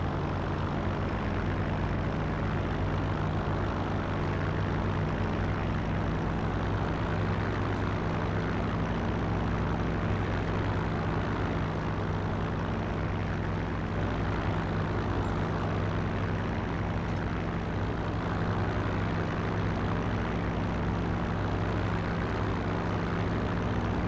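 Steady droning airplane engine in the World War II shooter Forgotten Hope 2, a continuous low propeller hum holding at an even level throughout with no speech over it.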